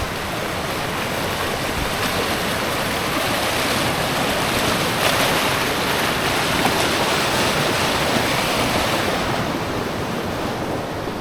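Fast-flowing water of Hat Creek rushes past in a steady, dense wash that stays close and loud throughout, with no voices.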